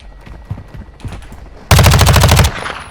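A gun in a Call of Duty game fires a rapid automatic burst after a slide cancel, loud and close, lasting under a second before cutting off, preceded by quieter movement sounds.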